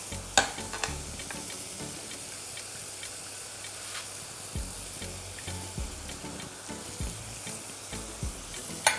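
Food fries and sizzles steadily in a pan for a plant-based Thanksgiving dish, with occasional stirring scrapes and clinks over a constant close hiss, no voices.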